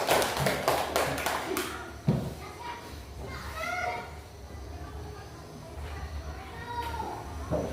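A classroom claps for group 2 with a short burst of hand taps at the start. Children then chatter and the room stays noisy, with a thump and scattered voices after the applause fades.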